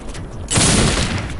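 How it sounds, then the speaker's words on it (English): A flashbang grenade in Project IGI at a SAM site bursts into a single loud, broad blast that hisses and rumbles as it fades. "let's see how a flashbang should be done"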